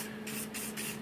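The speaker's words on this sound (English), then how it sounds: "I'm going to spray some WD-40" WD-40 sprayed onto an old toothbrush in three short hissing bursts, close and fairly loud, over a low steady background hum.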